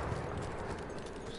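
Horse hooves clip-clop in the Battlefield 1 video game, a quick run of faint, soft thuds over low background noise.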